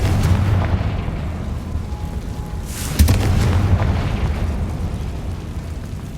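A fire spell goes off in the Hogwarts Legacy video game, a loud burst partway through over a dense, rumbling game soundscape that carries on after the blast, with no speech.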